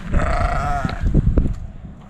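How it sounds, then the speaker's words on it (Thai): A young lamb at a petting farm gives a single wavering bleat, close and loud, followed by scuffling and shuffling noises. "มีลูกแกะด้วยเหรอ"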